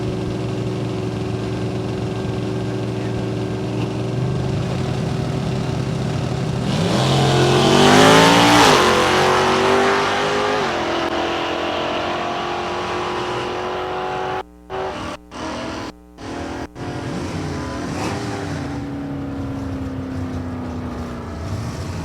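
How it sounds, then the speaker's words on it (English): A 95 Camaro drag racing car at a drag strip accelerates hard in the left lane, its engine roaring up through rising harmonics to a loud peak and then fading as it pulls away, with brief dropouts near the end. "Josh Pickett, his Camaro out of Avon in the left lane"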